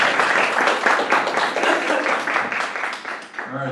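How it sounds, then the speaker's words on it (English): An audience applauds steadily for several seconds at a small talk event, with dense, fairly close clapping and a few voices mixed in as it tapers off at the end. "let's give Bud Gibson a big round of applause"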